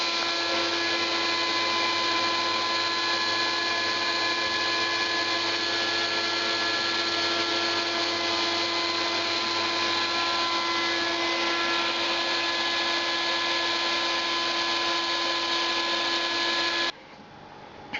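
A vacuum forming machine's vacuum runs steadily, holding heated plastic sheet tightly over a plaster model as it cools, a loud constant whine with a few steady tones, cutting off abruptly near the end.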